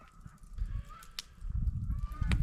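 A loud, honking bird call repeats a few times, harsh and goose-like, over quiet outdoor background noise in an Alaskan rainforest in winter at daybreak.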